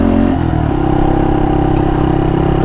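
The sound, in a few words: Honda Monkey 125 motorcycle riding on gravel road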